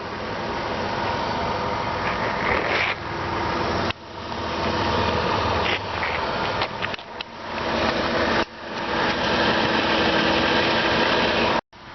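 A 2005 Dodge Grand Caravan engine idles steadily with a smooth, even hum, close and constant, broken by a few brief cuts.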